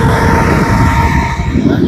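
An exhaust fan runs at full power, giving a loud, steady roar with a whining hum close to the microphone, continuous over the short stretch.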